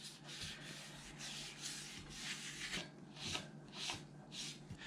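A cleaning pad scrubs a stainless exhaust pipe in quick, rhythmic strokes, each one a close, gritty rasp, repeated about a dozen times with brief pauses between strokes.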